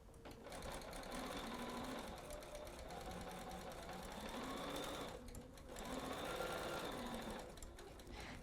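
A sewing machine runs steadily, stitching the final seam of a quilt gift block, its fast mechanical needle chatter close and continuous, with two brief pauses in the motor.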